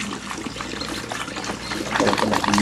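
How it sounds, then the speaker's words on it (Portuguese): Half a litre of water is poured into a container for a homemade lemon and detergent plant spray, a continuous close splashing stream that grows slightly louder, with a voice talking faintly underneath. "Eu vou estar colocando aqui meio litro de água"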